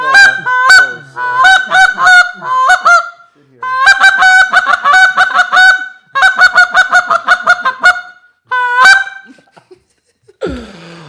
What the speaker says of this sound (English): Gonna close it out with a goose